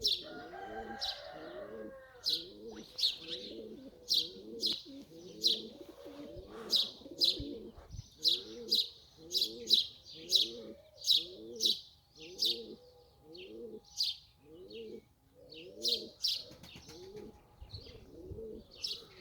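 Pigeons coo steadily in repeated low throaty phrases, with frequent high chirps and small rustles layered over a constant ambient hum.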